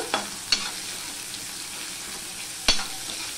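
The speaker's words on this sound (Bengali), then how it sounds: "পেঁয়াজটা আমি লাল লাল করে ভেজে নেব।" Sliced onions frying in a pan until reddish brown, heard as a steady soft sizzle with three sharp clinks of a spatula against the pan, close and quiet, with no speech.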